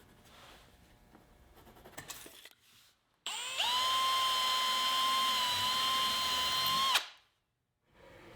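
A power drill spins up and runs steadily for several seconds at close range, drilling pilot holes in wood, then cuts off abruptly; quieter handling noises come before it.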